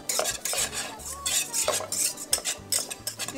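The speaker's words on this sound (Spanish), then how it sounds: "Hay que remover biencito" A spoon scrapes and clinks steadily around a pot as flour is stirred into a meat lasagna sauce, with close, repeated strokes and no talking.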